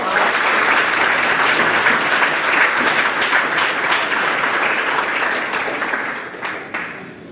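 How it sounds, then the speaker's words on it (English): A school awards ceremony crowd for grades 4 to 6 breaks into loud, dense applause that holds steady for several seconds before tapering off near the end. "give them one last round of applause"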